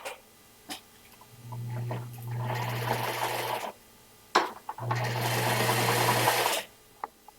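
A repaired sewing machine runs in two loud bursts of about two seconds each, a steady whirring drone with rapid needle chatter, separated by brief clicks and a pause in a quiet room.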